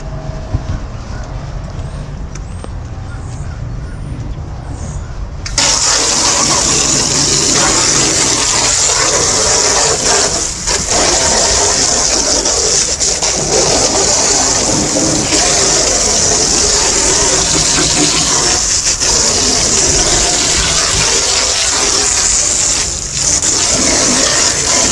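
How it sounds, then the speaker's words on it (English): Water hose rinsing the removed floor mats of a Yamaha FSH 255 boat: a quiet outdoor start, then a loud, steady gushing spray of water that continues close to the microphone with small fluctuations. "I'm going to rinse it now."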